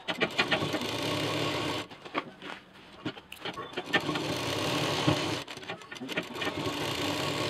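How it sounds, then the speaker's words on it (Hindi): A sewing machine runs in steady bursts, stitching the quilted panel of a double zipper pouch, with short pauses between runs and a voice talking over it. "जितना क्विल्टेड पीस है उसको हम यहाँ यहाँ दोनों तरफ सिल देंगे"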